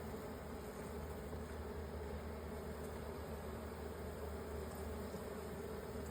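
A hive's worth of honeybees hums in a steady, dense drone that fills the whole stretch, close and constant with no voices.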